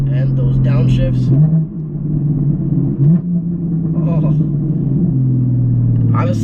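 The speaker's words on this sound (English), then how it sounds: "when I downshift, you can hear it from a mile away, and it sounds like something crazy is coming" A straight-piped Porsche Cayman 981 exhaust on downshifts, a loud, close engine drone that blips and shifts pitch a couple of times while someone talks over it.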